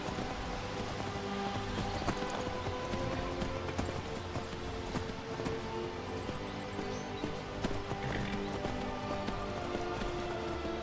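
Horse hooves clip-clop steadily in Skyrim near Ivarstead, a dense continuous trotting rhythm over game ambience and music, fairly loud throughout.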